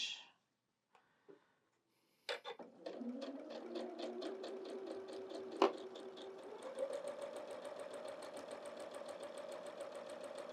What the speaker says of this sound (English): we're going to sew along that edge